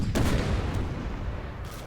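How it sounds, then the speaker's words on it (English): Cannons fire in a Napoleon: Total War siege battle at Lisbon, a dense low rumble of booms and distant gunfire rolling continuously, with a couple of sharper bursts standing out from the battle noise. "their cannons back here, which are still actually firing at something"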